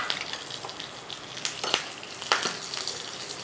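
Two dried chillies and curry leaves crackle and sizzle in hot ghee for a South Indian tempering, a steady fry with a few sharper pops, close and alone without talk.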